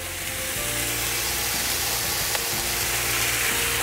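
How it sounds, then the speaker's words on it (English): A beef and vegetable stir fry sizzles hard in a hot pan on the boiling plate of a Rayburn range cooker, a loud, dense, continuous frying hiss with a faint scrape of stirring, no voices. "as you can hear the heat generated in the pan, rapid cooking"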